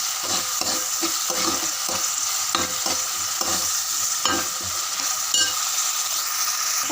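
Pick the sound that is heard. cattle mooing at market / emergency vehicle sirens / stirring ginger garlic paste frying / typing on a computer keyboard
stirring ginger garlic paste frying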